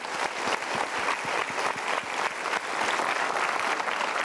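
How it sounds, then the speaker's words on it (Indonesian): A studio audience at a motivational talk show applauds, with dense, steady clapping from many hands filling the room throughout and no talking over it. "Kita berikan tepuk tangan."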